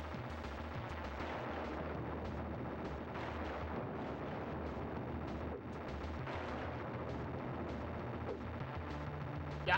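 Cannons fire in the SNES game Time Slip, a dense, continuous barrage of booming retro gunfire and explosions that stays loud throughout with no pauses.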